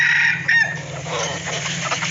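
Chickens cluck and a rooster crows close by in a farmyard with a constant low hum underneath, the crow rising briefly near the start while a baby chick tally is being counted.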